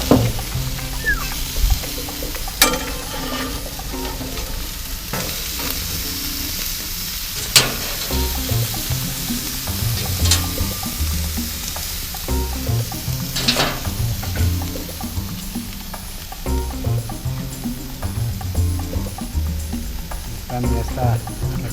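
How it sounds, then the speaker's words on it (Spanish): A beef burger patty for a bacon pineapple burger sizzles steadily in a frying pan, with brief scraping and clatter as it is flipped partway through, the frying hiss continuing throughout at close range. "Y le vamos a dar vuelta a la carne."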